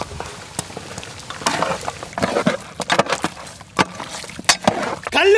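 Biryani with yogurt and roasted ground masala is stirred in a pot over a village wood fire, with repeated scraping and clattering strokes of the ladle against the pot over a soft sizzle.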